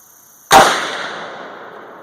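A single sharp rifle shot from a 450 Bushmaster firing a 240-grain XTP handload loaded with Lil' Gun powder, one loud crack followed by a long fading echo outdoors.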